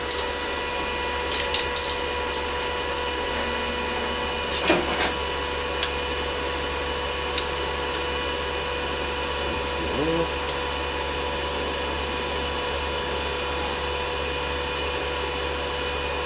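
A Riland 160MMA stick welder running on 220 volts lays a weld, giving a steady close hiss and crackle of the arc over a low electrical hum, with a few sharp pops.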